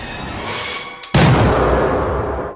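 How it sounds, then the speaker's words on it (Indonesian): A gunshot in a horror film: a sudden loud crack cuts in after a near-silent gap, followed by sustained loud rumbling, chaotic noise that carries on to the end. "Suara tembakan itu menciptakan kekacauan."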